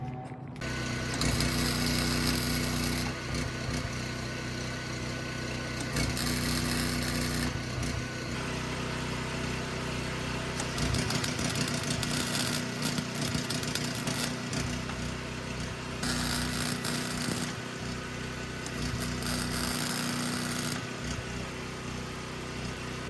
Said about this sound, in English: I'll go ahead and weld everything together